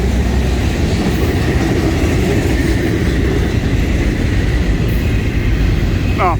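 A Florida East Coast Railway freight train hauling auto racks rolls past close by with a continuous loud rumble and rattling wheel noise, and a brief squeal near the end.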